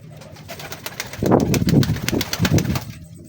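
Pigeons coo nearby in several low, throaty bursts, a soft rolling rhythm with faint rustling underneath.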